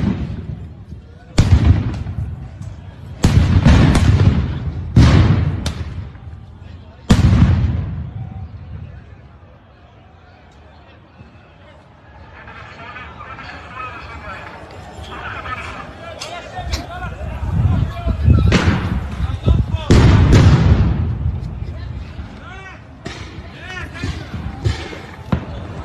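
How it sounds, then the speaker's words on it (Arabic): Stun grenades bursting among worshippers at Al-Aqsa Mosque, several loud sharp blasts close together early on, then a crowd's shouting and commotion with further bangs echoing around. "شوفوا كم قنبلة صوت طلعوا على بيصلوا"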